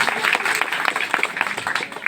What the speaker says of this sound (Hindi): जोरदार ताली बजाएं उनके लिए भी